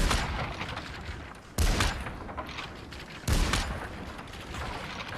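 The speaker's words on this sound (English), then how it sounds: "you can shoot it pretty rapid fire" A bolt gun fires rapidly in the VR shooter Population One: three loud, close shots spaced about a second and a half apart, each trailing into a reverberant, crackling tail.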